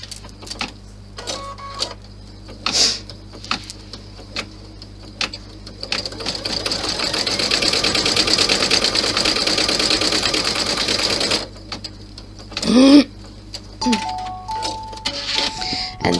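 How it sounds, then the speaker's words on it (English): An embroidery machine stitches in the hoop while making a 40-inch bag strap: a busy, rapid mechanical whir that runs steadily for several seconds, with a few separate clunks and beeps before and after. "now we're going to stitch"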